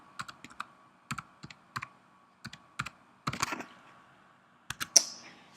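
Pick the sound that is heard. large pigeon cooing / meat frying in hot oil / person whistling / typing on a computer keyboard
typing on a computer keyboard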